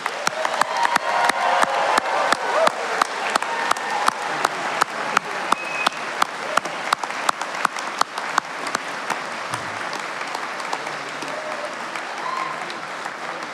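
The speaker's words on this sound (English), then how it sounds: "if there's a little more clap in you, please join me one more time to congratulate our newer doctorate" Sustained audience applause at a university Ph.D. hooding ceremony, steady dense clapping from a large crowd filling the hall for over thirteen seconds without talk.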